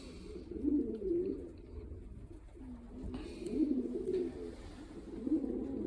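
Pigeons in a loft of racing and French birds coo repeatedly, with several rolling low phrases in steady succession, near and distinct, with no talk.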